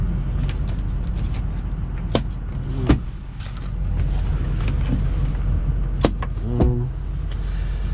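Power rear window motor of a 2007 Ford F250 Diesel truck whirring inside the cab, heard over steady low vehicle rumble with a few clicks and knocks.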